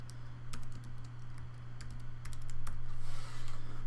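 Someone types Python script on a computer keyboard in JupyterLab, with rapid, irregular clicking keystrokes coming in bursts over a low steady hum.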